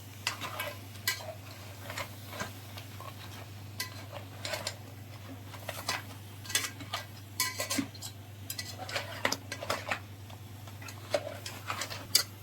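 Cleaned crabs sautéed and stirred in a pan, giving a long run of quick clattering taps and scrapes over a low constant hum, with only a faint sizzle underneath.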